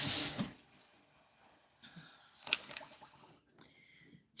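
Tap water runs into a kitchen sink as things are rinsed off under it, a short burst of splashing at the start followed by quieter, intermittent water and clatter sounds close by.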